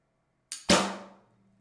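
Single compound bow shot fitted with a RamRods tungsten stabilizer: a short snap of release followed by a sharp crack, then a low hum of vibrating limbs that fades over about half a second.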